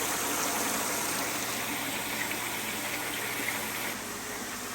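Water flowing in a koi garden pond, a steady close rush of gushing water that runs without pause and eases slightly near the end.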